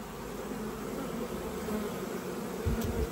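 Honeybees buzz at a hive in a steady, dense drone that holds throughout, with a brief low thump near the end.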